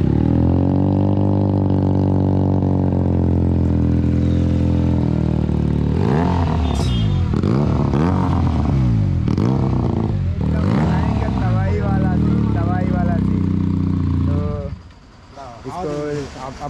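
Superbike fitted with an SC Project exhaust revving hard and loud, with rising and falling engine sweeps in repeated bursts, then dropping to a quieter idle near the end.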